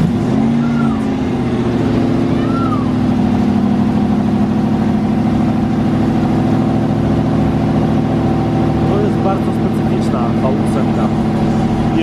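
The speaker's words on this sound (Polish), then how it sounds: "Brzmi równie specyficznie, jak wygląda. Bardzo spokojnie, cichutko. Aston Martin V8 Vantage." An Aston Martin V8 Vantage sits idling, its engine giving a steady low hum that holds evenly throughout, while someone talks over it.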